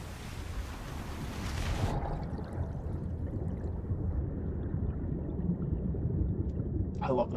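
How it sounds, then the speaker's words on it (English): Steady wash of flowing water in the video game Jusant, a continuous broad rushing sound that stays even throughout and ends with a brief brighter splash. "I love the sound of water."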